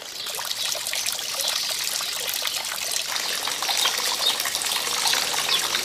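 Water trickles and splashes continuously in the flower-filled courtyard patios of the Palacio de Viana in Córdoba, a bright, steady fountain burble close by with faint birdsong behind.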